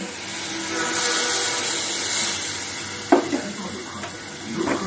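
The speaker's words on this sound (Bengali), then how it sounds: "মশলাটা ভাজা হয়ে গেছে, এবার আমি এটাই মেশাবো জল" Water is poured into fried spices in a hot pan for a pomfret fish curry, setting off a loud broad hiss of sizzling that eases into steady bubbling with a few sharp clinks of a utensil.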